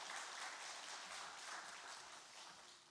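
Church congregation applauding its Bible school teachers, a dense, sustained wash of many hands clapping together, steady and fairly distant throughout.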